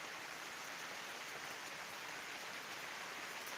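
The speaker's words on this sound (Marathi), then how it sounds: "वरुण राजा या ठिकाणी पोलला पाणी घालत आहे सगळीकडे पाणीच पाणी झालेलं आहे मुसळधार पाणी वाहत आहे" Heavy downpour with water running everywhere around a temple courtyard, a steady, dense hiss of rain that holds unbroken and even from start to finish.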